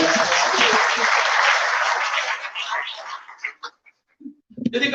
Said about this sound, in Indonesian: Tepuk tangan untuk Yesus.